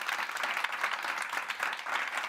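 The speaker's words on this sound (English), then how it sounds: "Can we have a round of applause for them?" An awards-ceremony audience applauds the winners, a steady wash of many hands clapping at moderate distance, unbroken for the whole moment.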